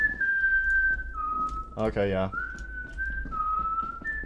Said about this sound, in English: Why are you whistling, man?